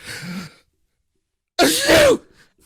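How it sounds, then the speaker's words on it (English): A person gives a loud, sharp sneeze up close, preceded by a short breathy sound and followed by a moment of silence and a trailing exhale. "you're sneezing everywhere"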